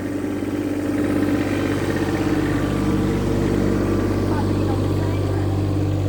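A mini digger's engine drones low and steady while the machine slowly spins around on its tracks, loud and close. A person talks over the engine.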